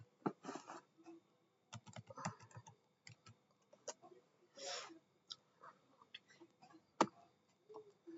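Keystrokes on a computer keyboard as a command is entered in a terminal, irregular clusters of close, fairly quiet clicks and taps with short pauses between bursts, no talking.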